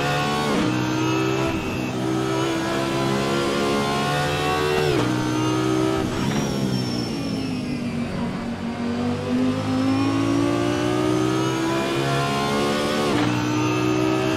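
Audi R8 LMS GT3 race car engine in a racing video game, a loud sustained drone with rising and falling revs and gear changes, heard on its own with no talk.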